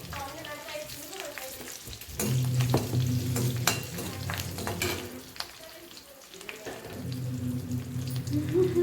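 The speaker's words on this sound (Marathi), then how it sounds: "आता कढईमध्ये एक शांतपैकी तडका तयार बनव करत आहे" A tadka tempering sizzles in a kadai while dhokla is being prepared. Quiet frying hiss surges louder after a couple of seconds, with light metallic clinks of stirring throughout.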